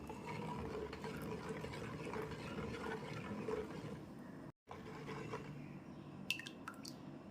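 Water pours and sloshes into mixed curd for ragi koozh, a faint, steady trickling and splashing close by, briefly cut off in the middle before resuming with a few small clinks.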